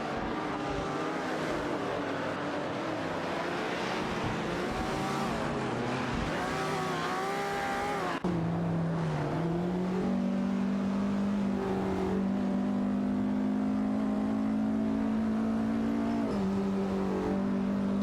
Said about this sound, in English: Sami Sarara and Amy are fiercely contesting P19 in their Chevrolet Corvette C3's